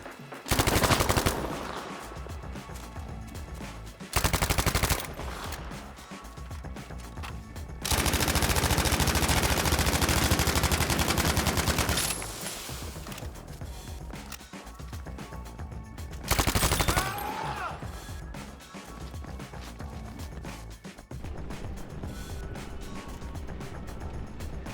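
Intense gunfight gunfire in Call of Duty Warzone: loud, close bursts of automatic fire come in several heavy volleys, with a long sustained barrage in the middle and quieter shots and game noise between them.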